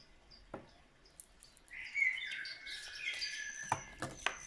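Birds sing nearby in bright chirps and whistled phrases, scattered at first, then rising into a fuller overlapping chorus with sharp calls toward the end, heard alone without talk.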